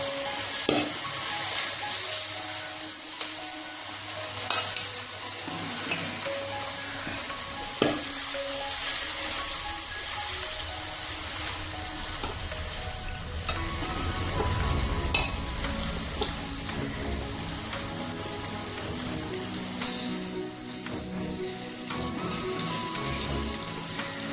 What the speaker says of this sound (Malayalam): വെളിച്ചെണ്ണ ചൂടായിട്ട് നമുക്കിത് ഓരോന്ന് കുറേശ്ശെ ഇട്ട് ഒന്ന് വറുത്തെടുക്കാം